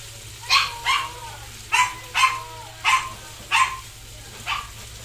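A dog barks repeatedly in short sharp yips, about seven barks spaced unevenly, fairly close, over a low steady background hum.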